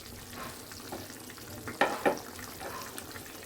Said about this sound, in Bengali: ঝোলটা ভালো করে ফুটে গেছে, এখন মাছগুলো দিয়ে দেবো